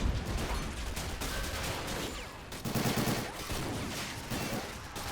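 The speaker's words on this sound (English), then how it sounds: "Bazookas are still firing." Bazookas and anti-aircraft guns fire in a dense battle, a continuous roar of overlapping blasts and rapid bursts with no clear pauses, loud and close throughout.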